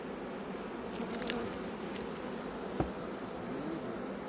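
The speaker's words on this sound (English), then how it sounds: "That bee is flying around." A bee buzzing inside a beekeeper's veil, a faint continuous insect drone close to the microphone with a couple of brief ticks, no talk.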